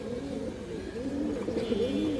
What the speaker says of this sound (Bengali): একটা সাদা মাদি কবুতর আছে, অনেক সুন্দর একটা কবুতর দর্শক